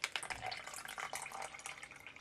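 Liquid is poured into a container for a home gender prediction test, giving a faint continuous splashing trickle for about two seconds, with no voices.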